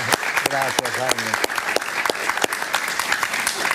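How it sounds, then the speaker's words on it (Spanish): A studio audience breaks into loud, sustained applause at a televised interview, with a voice speaking over the steady clapping. "Un aplauso para él, por favor."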